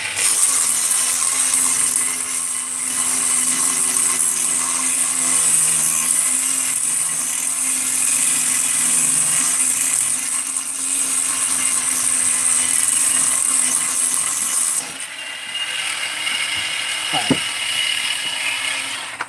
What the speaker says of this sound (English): That's good for now on the polishing.